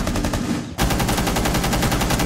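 Rapid automatic gunfire in the video game Rainbow Six Siege, a dense continuous burst of close, loud shots with a brief break before it resumes.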